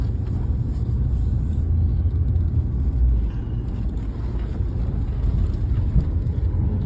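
Car driving down into an underground office parking garage, a steady low engine and road rumble with some wind buffeting, continuous and close throughout with no talking.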